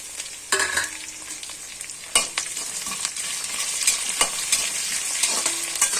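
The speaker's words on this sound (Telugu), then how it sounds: "ఉల్లిపాయలు వేసుకొని చక్కగా వేయించుకుందాము." Onions frying in oil in a pan for borugula upma, a steady close sizzle with occasional stirring scrapes and clinks throughout, no voices.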